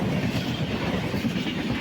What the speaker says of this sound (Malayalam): അതായത് നമ്മുടെ രണ്ടാമത്തെ ട്രെയിൻ ക്രോസ് ചെയ്ത് അടിച്ച് കീറി പോയിരിക്കുകയാണ് പ്ലാറ്റ്ഫോം നമ്പർ 1